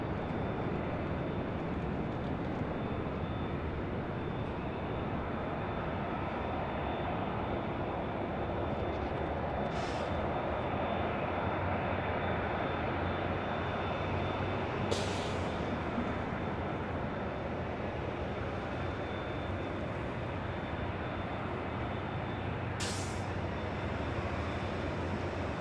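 A United Dreamliner jet arriving at LAX on the north side, a continuous broad roar of aircraft noise that stays steady and loud throughout, with a few brief faint clicks.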